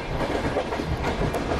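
Tejas Express train 82901 running at speed in MSTS Indian Train Simulator, a steady rumbling roll with rhythmic clickety-clack of wheels over rail joints, close and continuous.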